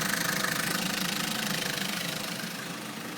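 A 2003 Vauxhall Corsa 1.2 16v Z12XE petrol engine with automatic gearbox runs steadily at idle as it warms up, giving a loud, even mechanical drone with a faint ticking texture and no talk.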